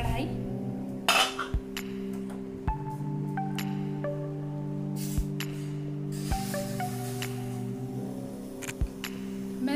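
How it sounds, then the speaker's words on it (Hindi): A cake pan being set into a preheated kadhai for an eggless custard cake, heard as several close metallic clanks and clinks spaced over a steady low hum, with no talking. "तो अब हम ये पैन रख देंगे कढ़ाई में, जो हमने प्री हीट होने रख दी थी कढ़ाई।"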